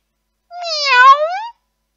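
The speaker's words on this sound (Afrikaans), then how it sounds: "Miau, sê Zak." A cat's meow in a children's story, a single loud, clear call of about one second that rises then falls, heard alone against silence.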